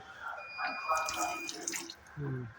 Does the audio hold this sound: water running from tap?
yes